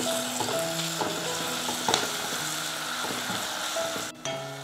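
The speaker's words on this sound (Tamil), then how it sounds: "அரை ஸ்பூன் வந்து இஞ்சி பூண்டு பேஸ்ட்டு சேர்த்துக்கிறேன்." Ginger garlic paste sizzling steadily in hot oil for chicken varuval, a continuous close frying hiss with scattered stirring clinks and scrapes throughout.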